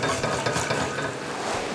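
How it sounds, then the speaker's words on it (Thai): A spoon stirs milk and water in a tall pot on the stove, a steady scraping swish with light sloshing, close and continuous, no talking. "คนไปเลย วันนี้เราเลือกหม้อทรงสูงนิดนึงนะครับ เพราะว่า เรา ใส่ปริมาณนมกับน้ำเยอะนิดนึง"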